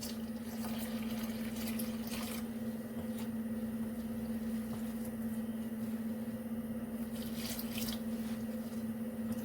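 Water is poured into a cooking pot as a soft, steady trickle, faint but continuous throughout, with a steady background hum.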